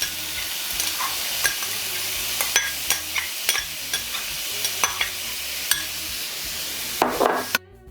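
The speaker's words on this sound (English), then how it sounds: "And carrots and vinegar." Carrots and vinegar sizzle in a frying pan for fried rice, a steady close hiss broken by repeated scraping stirs and clinks of a utensil against the pan, with no talking.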